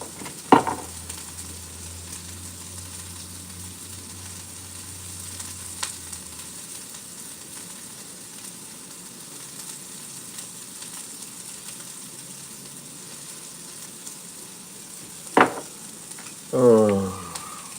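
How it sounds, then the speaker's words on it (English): Onions sizzle and hiss softly in a hot frying pan, a steady low frying crackle with a few clatters of a utensil near the end. "Sizzle, sizzle."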